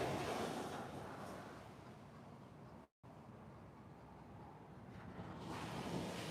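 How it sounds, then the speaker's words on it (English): Ocean surf heard from high up in a tree, a broad distant wash of waves mixed with wind rumbling on the microphone, swelling at the start and end with a brief dropout midway. "There's the ocean."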